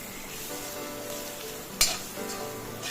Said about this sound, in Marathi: थोडेसे वाटलेले वाटणे पण घालूया आणि मग ढवळून घेऊया